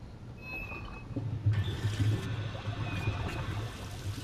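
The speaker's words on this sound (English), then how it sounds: "Someone just flushed the toilet." Toilet flushing inside a pump station in A Quiet Place: The Road Ahead, heard as a steady rushing, gurgling pour of water that swells and then holds at a moderate level over a low hum.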